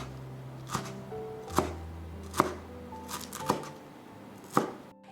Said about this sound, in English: First, chop up mitsuba herb.